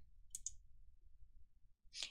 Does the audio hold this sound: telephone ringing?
no